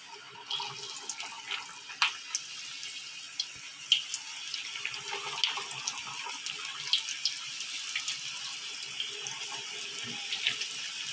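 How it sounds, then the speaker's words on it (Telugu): Drumstick leaf rice crackers deep fry in hot oil, making a continuous close sizzling hiss with scattered small pops and crackles throughout. "ఇలా మనం చేసుకున్న చెక్కలని ఆయిల్లో వేసుకొని గోల్డెన్ కలర్ వచ్చేంత వరకు డీప్ ఫ్రై చేసుకుందాం"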